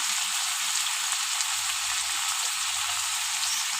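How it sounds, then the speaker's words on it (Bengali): Ground cumin, chili powder and turmeric frying in a pan for a spiced egg curry, giving a steady, dense sizzle that runs unbroken and fairly loud throughout, with no voices. "বেশ ভালো করে আমি ভেজে নেব"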